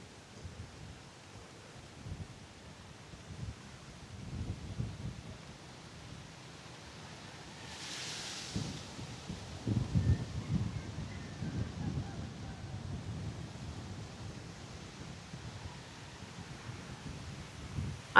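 Strong wind gusts across the Lumot Lake campsite in Cavinti, Laguna. A broad, rushing noise rises and falls and buffets the microphone, moderately loud, with a short hiss burst partway through.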